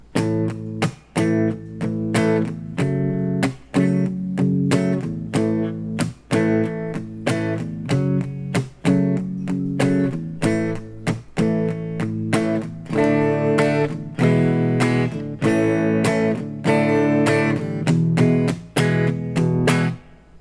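Acoustic guitar strumming the intro of a song in a steady rhythm, chords ringing with brief muted breaks between phrases, played close and alone without voices.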